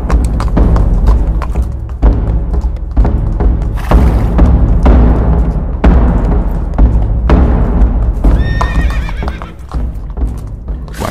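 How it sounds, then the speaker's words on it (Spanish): Several horses clip-clop steadily and close, their hooves thudding in a dense rhythm while neighs and whinnies break out over the hoofbeats, with no speech. "oía ya el paso de los cascos de los caballos"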